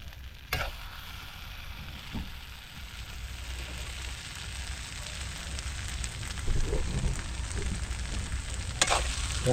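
Makapuno coconut jam thickening in a pan at an outdoor farm kitchen, stirred steadily with a soft continuous sizzle and scraping; a sharp knock near the start and another near the end, no talking.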